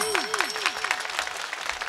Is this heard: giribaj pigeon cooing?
no